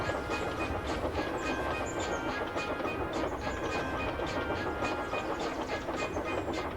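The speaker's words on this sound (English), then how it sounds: "They returned with loaded ballast trains." A loaded ballast train rumbles steadily along the rails with a continuous rolling roar and faint rhythmic clatter, close by and fairly loud throughout.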